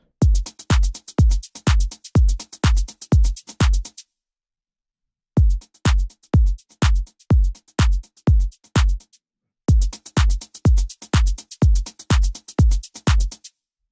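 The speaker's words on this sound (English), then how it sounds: "has definitely that like tape sound that you get on a lot of vintage recordings" A drum loop mixed with vintage-style tape saturation plays three times. Each pass is a run of crisp, evenly spaced hits, and short silent gaps separate the passes.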